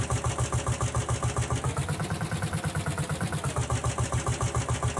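Lanz HR6 vintage tractor engine in Farming Simulator 19 chugs at a steady idle, with a loud, rhythmic low thumping pulse repeating evenly throughout and no voices.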